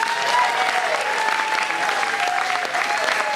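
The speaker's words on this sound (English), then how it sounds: "Please make some noise for Mark James" A horror makeup show audience claps and cheers steadily, a dense wash of applause that stays loud throughout without any pause.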